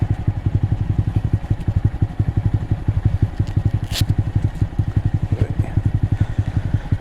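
A Honda Monkey motorbike engine runs close by at idle, putting out a fast, even thumping pulse with faint clatter and a brief scrape partway through, with no talk.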